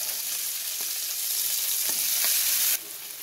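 Green chili and garlic, then onion, sizzling steadily in hot oil in a pan, a loud continuous fry with a few faint stirring clicks before the sizzle drops quieter near the end.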